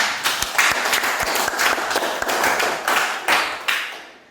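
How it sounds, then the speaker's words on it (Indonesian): A primary school class applauds with dense, steady clapping that swells and fades slightly over a few seconds before trailing off at the end. "Tepuk tangan."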